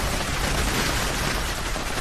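Heavy weapon in Fallout 76 fires a continuous dense stream of rounds, steady and loud throughout, with no speech.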